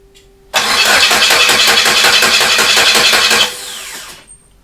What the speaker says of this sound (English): The goal right now is just to see if it'll turn on and then quickly turn off.